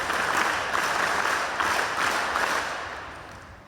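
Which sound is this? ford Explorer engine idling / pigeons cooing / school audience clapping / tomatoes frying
school audience clapping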